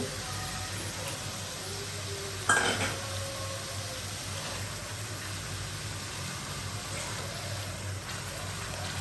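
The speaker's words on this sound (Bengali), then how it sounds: "মশলাটা একদম ভালোভাবে কষানো হয়ে গেছে মাছের ডিমটা আমি দিয়ে দিব" Fish roe goes into a pan of well-cooked spiced masala and is stirred in: one sharp metallic clatter, then soft, continuous stirring and faint sizzling.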